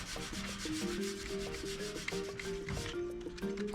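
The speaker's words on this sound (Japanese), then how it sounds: "まず最初に擦り傷の部分をサンドペーパーで削って段差がないようにします。" Sandpaper rubs back and forth over a scratch on a metal water heater cover, a steady gritty scraping that runs continuously and close up, with no voices.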